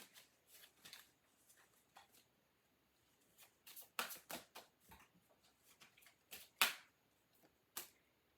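Halloween oracle cards are shuffled by hand, giving irregular soft bursts of riffling and slapping, some clusters quick and others spaced apart, close and quiet with no talking.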